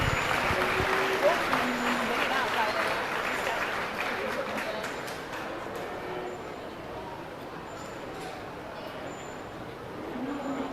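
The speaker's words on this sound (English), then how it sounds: "give all these kids one more big round of applause" Audience at a youth steer show and beef showmanship event gives a sustained round of applause for the young exhibitors, a dense, steady wash of clapping that fades slightly toward the end.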